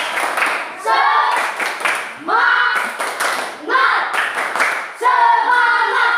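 A classroom of students claps a rhythmic spirit chant in bursts of quick patterned claps separated by short pauses, loud and close, with voices chanting along.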